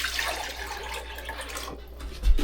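Water runs into a pot for cooking rice, a steady low splashing flow heard close with a slight bump near the end, no voices.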